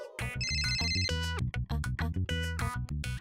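A phone ringtone plays loudly, a busy electronic melody of repeated tones with no talk over it.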